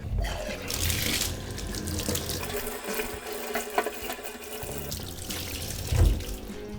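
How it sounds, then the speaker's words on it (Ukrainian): Tap water runs steadily into a bathtub and splashes over a pair of Saucony Aura TR GTX winter running sneakers, a continuous close hiss and patter with no talking. "засуну їх прямо під кран з водою"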